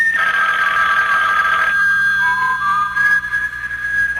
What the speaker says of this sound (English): Your phone, Harry.